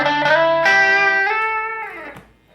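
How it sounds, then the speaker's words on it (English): Electric guitar played through distortion, a sustained, harmonically rich chord held loud and steady for over two seconds before fading out near the end. "Distortion."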